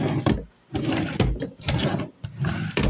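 A wooden drawer in a house bedroom is pulled open, giving a few loud, close scraping and knocking bursts with brief pauses between them, and no talking.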